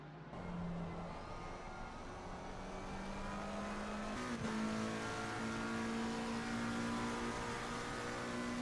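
Race car engine in a sim racing game, a sustained high-pitched drone that shifts gear and climbs steadily in pitch as it accelerates, continuous and fairly close.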